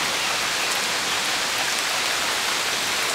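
Heavy rain pours down fast and close by in a steady, dense hiss, with no pauses and no voices over it.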